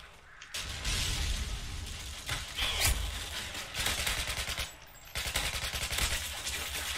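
Rapid automatic fire from a SCAR-H in Call of Duty Modern Warfare 2, loud sustained bursts broken by brief pauses, with mechanical clatter between volleys.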